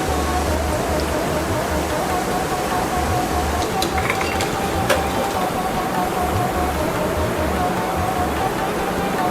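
Snack mixture ingredients deep-frying in oil until crispy, producing a loud, dense, rain-like sizzle that holds steady throughout, with a few brief clinks.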